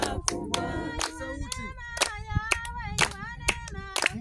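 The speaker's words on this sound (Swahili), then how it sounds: "Mpige makofi na mshangilie." A church congregation claps in worship, sharp regular claps spaced about every half second, mixed with singing voices, fairly faint and distant.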